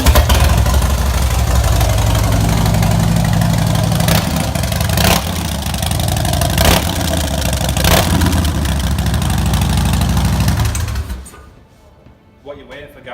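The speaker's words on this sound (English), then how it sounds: "I'll give it a quick fire up for you." A 2015 Harley-Davidson FXSB Breakout V-twin fitted with Vance and Hines exhaust idles loud and close, a steady low rumble that runs unbroken for about eleven seconds before cutting off into quiet.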